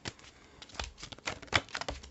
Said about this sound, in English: I'm just gonna shuffle, see what comes out.